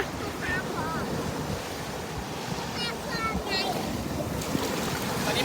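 Sea surf washes steadily onto a beach in Pattaya, a continuous broadband rush with wind buffeting the microphone, while several people chat and call out over the water noise.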